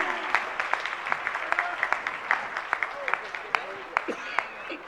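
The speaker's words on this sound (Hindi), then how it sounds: "जरा जोरदार तालियां" Applause at an award ceremony at M.D. Jain College in Agra, a moderate scatter of hand claps from a crowd, steady throughout and mixed with talking.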